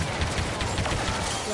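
A powerful pistol firing in the Star Wars Battlefront 2 video game, a loud, dense burst of blasting noise running without a break through the whole short moment.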